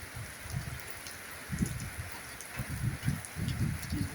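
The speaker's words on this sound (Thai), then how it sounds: "มาชมบรรยากาศฝนตกเพื่อช่วยผ่อนคลายสมองทั้งกันครับ" Steady rain falls outside a house doorway, a soft continuous hiss with low patters and drips swelling in uneven bursts, heard alone without voices.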